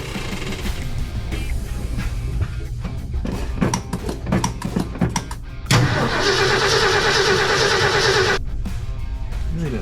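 A 1966 Ford F100 truck engine cranks without catching, a rough grinding starter run followed by a steadier, louder sustained whir near the end, up close with no talk.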